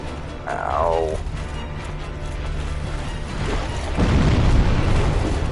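A boss in Dark Souls Remastered swings an axe that throws an explosion out ahead of him, a rumbling burst that swells over a steady bed of game noise and builds louder toward the end.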